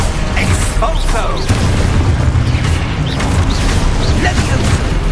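In the Hogwarts Legacy video game, an Expulso spell detonates with a loud, booming blast that rolls over a dense bed of ongoing game sound effects.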